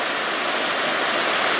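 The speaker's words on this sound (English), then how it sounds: "And this river runs very close to the restaurant." A river flows right beside a restaurant, its rushing water a loud, steady broadband wash that fills the whole moment with no voices.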